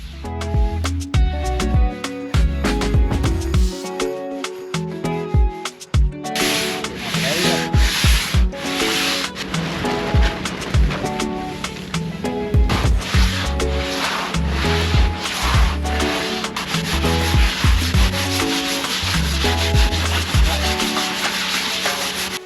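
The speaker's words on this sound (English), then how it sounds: "we start sanding together again" Rough, rhythmic scraping of sandpaper rubbed by hand over a boat hull, continuous strokes back and forth, close and fairly loud.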